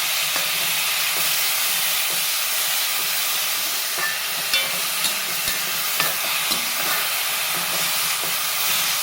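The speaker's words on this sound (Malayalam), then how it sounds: "ചെറു തീയിൽ നമ്മളിങ്ങനെ ഇളക്കിക്കൊണ്ടിരിക്കണം" Steady sizzling of vegetables and egg frying in a pan over low heat with scattered scraping and clinking as it is stirred, continuous and fairly close, with no voices.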